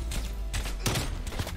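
Rapid SMG gunfire in a video game, dense overlapping bursts of shots crackling up close for under two seconds with no talk over them.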